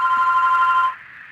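A telephone rings once with a bright, sustained electronic trill that cuts off abruptly, leaving a quiet tail; loud and close, with no talking.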